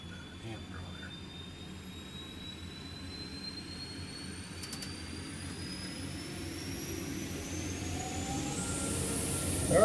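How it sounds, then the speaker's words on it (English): Auxiliary power unit of a Boeing 727 running steadily during a cold-and-dark startup, a continuous broadband jet whine with a rising high tone, slowly growing louder over about ten seconds. "Sounds to me like the APU's up to speed."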